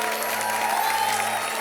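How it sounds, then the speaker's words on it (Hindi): Studio audience applause on a Comedy Circus comedy stage, a steady dense wash of clapping heard close and loud throughout, with a faint steady tone underneath. "जोरदार तालियां पहले बजा दो"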